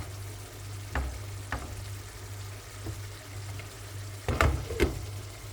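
Chickpeas being lightly fried in a pan, a low steady sizzle under a constant hum, with a few sharp spatula scrapes and stirring clatters, the loudest bursts near the end.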